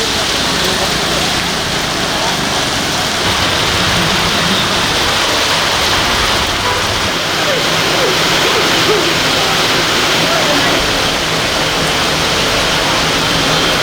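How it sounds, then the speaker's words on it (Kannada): Heavy rain pours down in Davanagere, a loud, dense, continuous hiss and roar with no letup from start to end. "ಒಂದು ವಾರ ಬಿಡುವು ನೀಡಿದ್ದ ಮಳೆ ಈಗ ಜೋರಾಗಿ ಸುರಿದಿದ್ದು"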